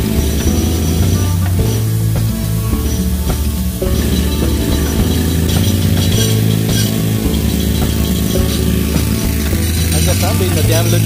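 Street construction machinery works nearby as crews tear up the road, giving a steady loud mechanical rumble with clanks, rattles and metallic clinks throughout, and a person speaks over it.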